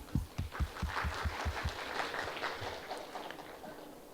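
Conference audience at an MSME startup conclave bursts into applause, starting with a few distinct loud claps then settling into a softer, steady wash of clapping that fades.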